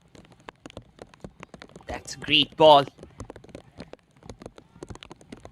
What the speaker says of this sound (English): Playing under the rain, it's always a special thing for all of us.